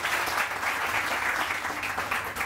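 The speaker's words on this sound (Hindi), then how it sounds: "बहुत सारी तालियां" Studio audience on a Pakistani morning talk show applauds a guest, a dense, steady wash of clapping that fills the whole moment without a break.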